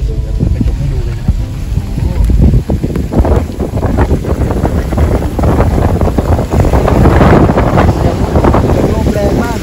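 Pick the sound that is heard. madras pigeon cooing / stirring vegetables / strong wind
strong wind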